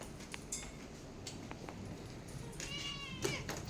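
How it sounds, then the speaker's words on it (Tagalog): A small farm in Malaysia where a pet cat meows faintly a few times at a distance over steady outdoor background hiss. "Kasi siya yung paborito kong pusa."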